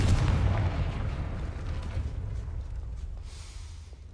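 A Confringo fire spell from Hogwarts Legacy bursts with a heavy, booming blast up close, its low rumble fading into a long, diminishing tail over several seconds.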